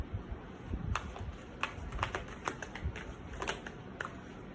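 Soft rapid riffling of cards being shuffled, a series of quick papery flicks and taps, close but quiet against a faint room hum.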